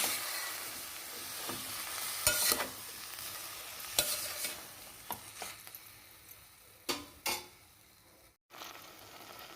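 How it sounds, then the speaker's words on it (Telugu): Tomato pieces being stirred into ingredients frying in a pan, with a steady low sizzle broken by several sharp utensil scrapes and clacks spread irregularly through the stretch. "ఇవి ఇలా వేగుతుండగా మనం ముందరే కట్ చేసి పెట్టుకున్నటువంటి టమాటా ముక్కలు కూడా ఇందులో వేసేసి ఒకసారి బాగా కలుపుకోవాలి."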